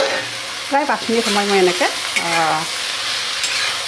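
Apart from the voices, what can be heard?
bottle gourd frying and stirring in a pan on medium flame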